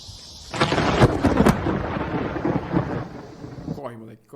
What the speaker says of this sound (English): Lightning strikes a little too close